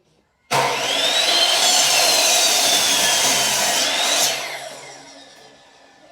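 Power saw cutting scrap wood in one loud continuous pass of about four seconds, with a rising whine before it winds down and fades, no talking.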